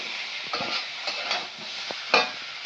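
Water poured into a hot frying pan of browned cauliflower, beans and potato sets off a steady, close sizzling hiss, broken by scraping stirs and a sharper burst partway through.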